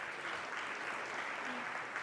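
Congregation applause after a church service performance, a steady dense wash of many hands clapping throughout, evenly sustained at moderate level with no voices standing out.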